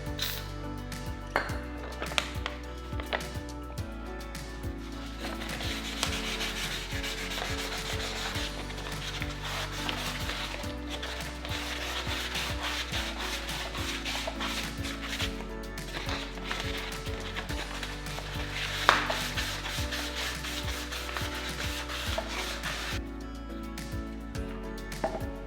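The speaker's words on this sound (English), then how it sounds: "take some PB Blaster and some 1200 grit, I actually cleaned it up quite nice" Rust being sanded off a Mitsubishi Evo X drive shaft with 1200 grit sandpaper and PB Blaster, a steady close rubbing scrape that runs continuously at an even, moderate level with small rhythmic variations.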